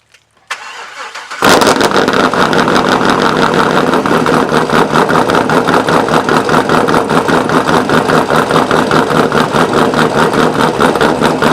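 A Corvette C6 cold-starts in the snow: a short starter crank catches into a loud engine bark, then settles into a steady, throbbing idle.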